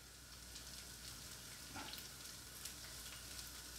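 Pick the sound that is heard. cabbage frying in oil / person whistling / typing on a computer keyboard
cabbage frying in oil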